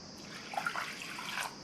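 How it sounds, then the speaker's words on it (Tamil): Water trickles and splashes faintly into a pressure cooker holding washed toor dal lentils, a short pour of under two seconds. "1/4 கப் தண்ணி சேர்த்துருக்கேன்."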